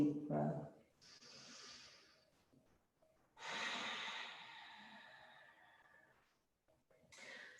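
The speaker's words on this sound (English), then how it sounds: "One more full deep breath." Slow, deep breaths during a yoga hip flow: a soft inhale followed by a long, airy exhale, close and quiet, then another breath beginning.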